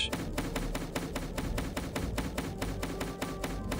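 Repeated chopping on locks in a video game, a fast even series of sharp strikes, about four per second, moderately loud and with no talking.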